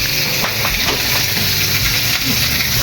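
Pork adobo made with Sprite cooking in a pan, giving a loud, steady sizzle and hiss with faint scraping of a stirring utensil throughout, close up, with no speech.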